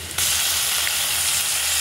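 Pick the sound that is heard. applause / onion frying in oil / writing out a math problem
onion frying in oil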